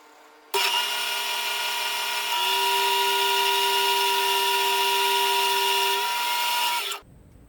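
A power tool fitted with an ultra fine abrasive polishes metal, its motor holding a loud, steady high whine for about six seconds after starting abruptly, then cutting off with no talk.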